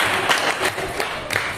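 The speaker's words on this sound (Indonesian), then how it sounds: "Silakan tepuk tangan" Brief, steady clapping from a small group after a classroom group presentation, close and even, with no talk over it.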